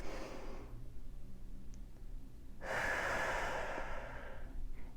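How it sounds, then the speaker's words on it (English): Slow, deep human breathing close to the microphone: a long soft exhale, a quiet pause, then a louder, fuller breath lasting over two seconds, and the start of another near the end. "take a deep breath, just slowly breathing"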